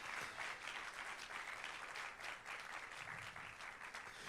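A church congregation applauds during a Spanish-language sermon, a sustained wash of clapping from many hands that stays even and fairly distant for over four seconds.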